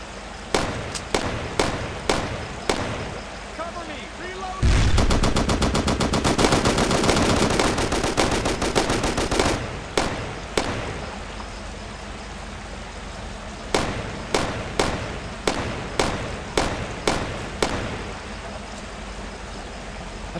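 MG-42 machine gun fire in the Brothers in Arms: Road to Hill 30 video game, with evenly spaced single rifle shots, then a long sustained, loud automatic burst lasting several seconds, followed by more spaced-out single shots.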